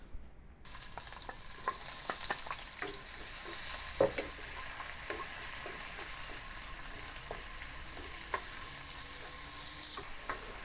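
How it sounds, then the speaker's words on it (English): Chopped onion sautéing in hot oil in a pan for a vegetarian yaki udon stir-fry, a steady close sizzle and fry with scattered stirring clicks and scrapes throughout. "Let's start by heat up the oil and saute the onion."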